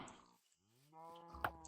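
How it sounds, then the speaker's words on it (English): Cows in the Minecraft video game give a faint, drawn-out low moo that rises and holds, with a short click near the end. "Oh wow, found a bunch of cows."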